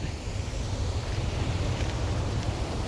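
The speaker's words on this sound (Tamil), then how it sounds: "இந்த தண்ணியோட சவுண்டை பாருங்கள் கால்வாய்க்கு வர்ற தண்ணி சவுண்டை" Water rushes into a stone-lined canal at Kadana river dam, a steady low roar of flowing water with constant wind-like noise throughout.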